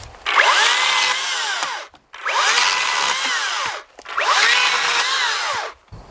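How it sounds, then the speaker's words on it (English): A power saw cuts standing dead mountain mahogany into firewood lengths at a campsite, with three loud sustained cutting passes, each about two seconds long, separated by brief pauses. "I got some nice standing dead mountain mahogany here, so I'm going to start cutting this up into some firewood lengths."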